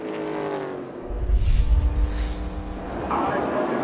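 NASCAR race cars at Charlotte surge forward at a restart, a deep rumbling engine roar building as the field accelerates, heard under a commentator talking.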